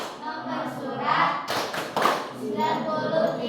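Rhythmic patterned hand clapping in a grade 6 classroom, bursts of claps mixed with children's voices and an adult speaking over them.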